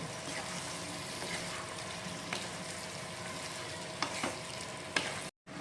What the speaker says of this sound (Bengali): মাংসটা কিন্তু 5-6 মিনিট ধরে ভালো করে মশলার সাথে কষিয়ে নেব